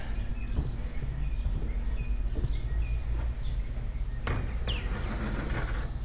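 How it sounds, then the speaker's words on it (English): Purple martins calling outdoors in early July, short chirps and warbles scattered over a steady low rumble of background noise, with a few sharper bursts near the end. "today I want to do a video of the purple martins out here"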